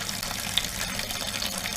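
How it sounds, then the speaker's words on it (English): Wine splashing and splattering as it is transferred between containers for aeration in a home garage winery, a continuous rushing pour of liquid. "Literally just let it splash and splatter"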